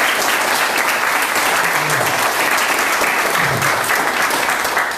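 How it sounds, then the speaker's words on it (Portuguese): A church congregation applauds for Jesus, loud sustained clapping from many people filling the room evenly without a break. "Os irmãos podem dar uma salva de palmas para Jesus."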